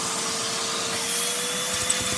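Lego OHV vacuum engine running, a steady hissing whir with a fine rapid pulsing rhythm underneath, close and moderately loud throughout.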